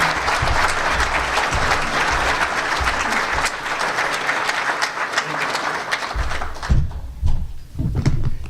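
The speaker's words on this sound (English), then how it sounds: "So let's give him a round of applause." An audience at a seminar applauds a professor being introduced, with steady dense clapping filling most of the stretch before thinning into scattered claps and a few bumps.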